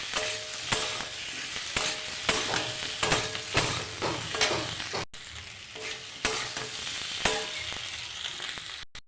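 Spice paste for a fish-head curry with rohu, papaya and potato sizzles loudly in a hot pan as water goes in, with steady frying hiss, bursts of crackle and occasional stirring scrapes throughout, and no voices.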